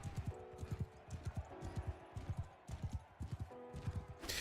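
Horse hooves clatter in rapid galloping clip-clop bursts in the medieval video game Mount & Blade, a close, rhythmic pounding pattern that repeats in quick groups, with a brief noisy rush at the end.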